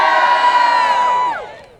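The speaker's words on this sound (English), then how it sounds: "Now give me a cheer if you think public transportation is worth saving." A large crowd at a climate action rally in Springfield cheers and whoops loudly and close by, holding steady for over a second and then fading out.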